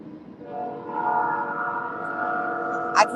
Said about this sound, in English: Y'all want to hear the train?